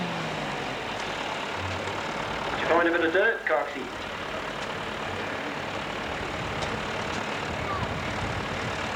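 A pulling tractor at a 1986 tractor pull in Colbinabbin roars as it pulls the sled, a loud rough engine note rising and straining briefly before fading back into a steady distant rumble, with someone talking over it.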